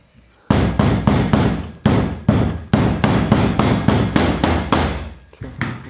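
Rapid, loud hammer blows driving hidden seam tape into foam upholstery on soft furniture, about a dozen sharp, evenly spaced strikes close up with no talking.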